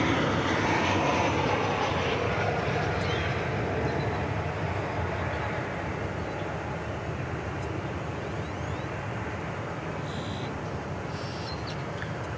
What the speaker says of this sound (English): American Flight 2326, a 737-800. Touching down without incident.